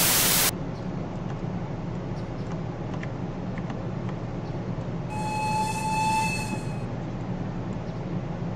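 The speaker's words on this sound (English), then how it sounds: "now you just walk into the locomotive" Steam locomotive running in the Roblox game Steam & Steel: a steady rumbling, hissing rail noise throughout, with a bright whistle-like tone rising over it for a couple of seconds near the end.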